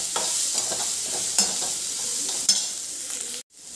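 Capsicum, carrot, beans and cabbage stir-fried for Schezwan fried rice, a bright continuous sizzle with a couple of sharp spatula scrapes, ending abruptly.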